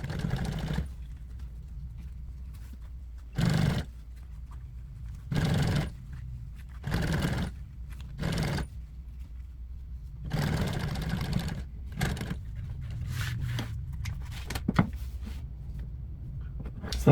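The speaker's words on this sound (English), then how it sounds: "put my 3/8 inch sewing allowance, put it underneath like that, and then start sewing that" Sewing machine stitching upholstery for custom aircraft seats: repeated bursts of whirring motor stitching, each a second or so long, separated by short quiet pauses, close and loud with no talking.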